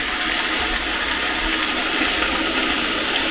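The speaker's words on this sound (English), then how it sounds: "In with some hot water." Hot water gushes into a pan of cabbage in a kitchen, giving a steady, loud rushing pour with no break and no talking.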